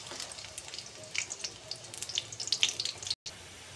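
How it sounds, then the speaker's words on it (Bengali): Chopped garlic dropped into hot oil gives a faint, crackling sizzle with brief, bright spits and pops. It is quiet and close, and nobody talks. "তেল গরম হয়ে গেছে, এবার তেলের মধ্যে রসুন দিয়ে দেবো"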